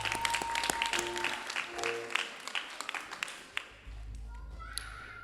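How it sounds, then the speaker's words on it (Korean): A church congregation claps in praise during a school worship service, many hands clapping together under a sustained keyboard tone before the applause thins out and a low instrumental note swells in. "다시 한번 우리 주님께 영광의 박수 올려드리겠습니다"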